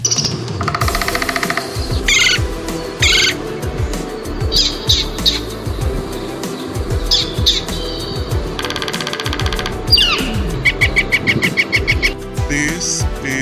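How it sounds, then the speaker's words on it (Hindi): A woodpecker drums in rapid bursts mixed with chirps, coos and calls from other birds, set over a steady low rhythmic beat, all close and busy. "This is a woodpecker."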